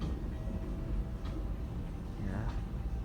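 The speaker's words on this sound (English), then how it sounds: "The other train's already leaving." Subway train pulling out of a station, a steady low rumble filling the platform with a brief rising metallic squeal near the end, continuous and fairly close.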